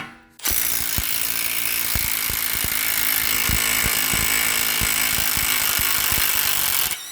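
A DeWalt Atomic 1/2-inch impact wrench removes a nut on a 2014 Toyota Venza during a bearing job. It gives one loud, continuous burst of rapid hammering lasting several seconds, close and alone, then stops abruptly.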